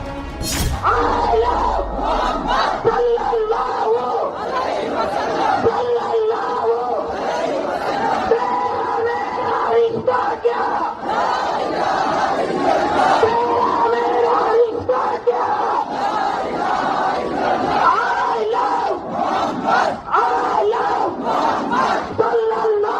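A dense street protest crowd in Beed, Maharashtra, a continuous roar of many voices with chanting and shouted slogans, loud and sustained throughout with no single voice standing out.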